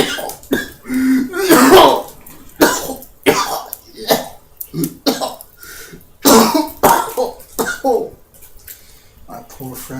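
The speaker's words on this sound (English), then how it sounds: "How long have you had that cough?" Repeated harsh coughs and throat clearing, loud and close, in irregular bursts across the span, some fits clustered together, with gaps of quiet between them.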